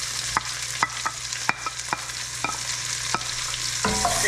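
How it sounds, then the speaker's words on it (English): Half an onion goes into a pan of cooked bacon on a wood cookstove, giving a soft steady sizzle punctuated by regular sharp scrapes and taps of a utensil stirring, then a louder crackle near the end. "Now that the bacon's done, I'm gonna throw in that half of an onion."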